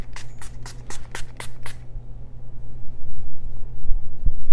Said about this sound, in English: they did send me the Amuse set in stone setting spray, and this is a mattifying setting spray.